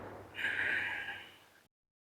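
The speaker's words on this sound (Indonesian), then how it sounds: "keluarkan napas melalui hidung secara pelan-pelan" A single slow exhale through the nose, close and soft, rises into a breathy hiss and fades gradually over about a second before silence.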